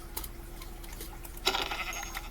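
A single short bleat from a sheep in Minecraft, faint and thin over a quiet ticking background, with a brief louder burst near the end.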